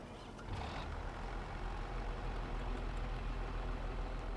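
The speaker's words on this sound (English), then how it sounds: "All right, guys, we got a tractor." A tractor idling with its work lights on, a steady low engine rumble that stays faint and constant throughout.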